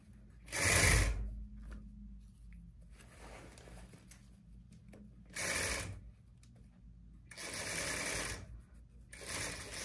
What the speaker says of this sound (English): I sew the zipper to the J stitch part